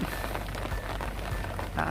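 Rain keeps falling steadily in Mukdahan, Thailand, at the end of the rainy season in October, a dense continuous patter with no let-up.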